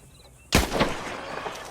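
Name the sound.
gunshot from a rifle while hunting in Red Dead Online video game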